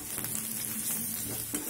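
Turmeric, coriander and red chilli powder roast in a pan for Rajasthani besan gatte sabzi, giving a continuous close sizzle with faint stirring scrapes, and nobody speaks.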